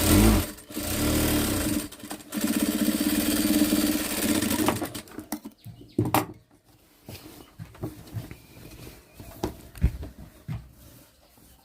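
A sewing machine stitches the edge of a pair of churidar pants, running as a loud, steady whir for about five seconds before giving way to quieter clicks and fabric handling.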